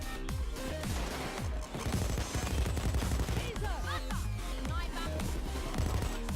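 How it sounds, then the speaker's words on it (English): A light machine gun in the video game Payday 2 fires continuously in rapid, dense bursts, with shell clinks and impacts under a steady game soundscape. "Damn, this LMG is too good."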